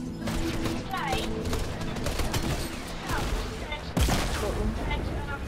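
Rapid gunfire rings out from the beach in a Fortnite match, dense overlapping shots with one louder crack near the end, while players talk over it.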